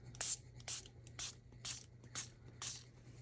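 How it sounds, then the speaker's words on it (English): A spray bottle spritzes alcohol ink onto embossed tin foil in a series of short, soft hissing bursts, about six puffs spaced roughly half a second apart over a quiet low hum. "give them a spritz"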